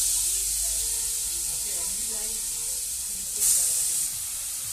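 Grated carrot with crushed cardamom dropped into hot oil, a steady close hiss of sizzling with a brief louder surge near the end, while someone speaks faintly underneath.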